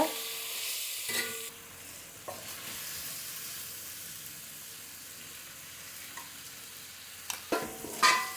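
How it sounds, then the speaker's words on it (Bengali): Chicken gizzard, liver and head fry in a pan for a village-style chicken curry. A steady close sizzle carries through, with a few clinks of the utensil near the start and end, and no one talks. "গিলা কলিজাটাও দিয়ে দিলাম, এটা একটু ভেজে ফেলবো।"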